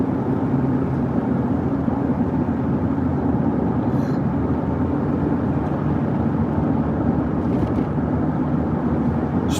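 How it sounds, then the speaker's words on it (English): Pickup truck engine and road noise form a steady, loud low rumble heard from inside the cab while driving, with no change in pitch and only faint ticks above the constant drone. "This truck sounds like a car."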